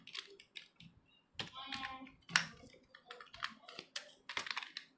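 Typing on a computer keyboard while entering text into a spreadsheet, a few irregular close key taps and clicks with brief gaps between them, fairly quiet.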